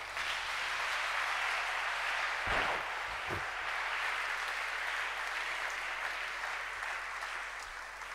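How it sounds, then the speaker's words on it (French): A church congregation applauds to acclaim the Lord, a dense, steady wash of clapping from many hands that lasts throughout at an even level, with a couple of louder thumps early on. "On peut acclamer le Seigneur."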